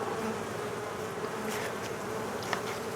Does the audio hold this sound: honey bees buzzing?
yes